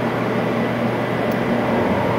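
An HP Jet Fusion 3D printer runs with a steady, loud, continuous mechanical hum and broadband whir, unbroken throughout and without talking.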